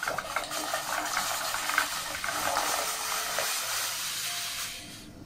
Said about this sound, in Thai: รอให้น้ำเดือดก่อนค่ะน้ำเริ่มเดือดนะคะ